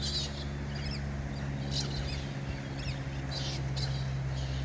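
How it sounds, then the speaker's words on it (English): Pink and grey galahs calling from a tree, several short scratchy screeches spaced out over a steady background hum, moderately distant. "There's some galahs up in the tree."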